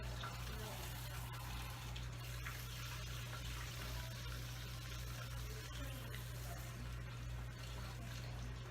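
Steady running water pours and splashes during a hair-rinsing treatment at a salon head spa, a continuous wash with a low machine hum beneath it throughout.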